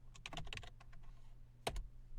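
A chat reply is typed on a computer keyboard as a rapid cluster of close keystrokes, then a pause and one louder key tap, all over a faint hum.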